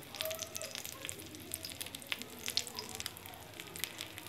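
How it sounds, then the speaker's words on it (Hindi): Egg-coated potato kebab patties frying in hot oil, giving a steady, close crackling sizzle with fine irregular pops throughout, fairly quiet and without any talking. "टिक्कियाँ हमारी फ्राई हो रही हैं"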